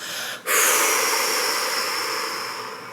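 A single long, breathy exhale blown out through the mouth during a relaxation exercise, close and steady, following a short intake, with no talking.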